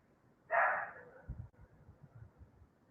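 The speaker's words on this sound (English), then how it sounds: "Let me know if my puppy is being too loud" A puppy gives a short burst of barking or yelping near the start, loud and close, then quiets to a few soft low thumps and faint rustling.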